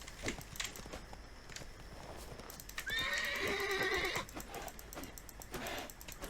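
Horse in The Witcher 3 video game neighing loudly in a sustained whinny mid-clip, with clip-clop hooves and busy game sounds around it.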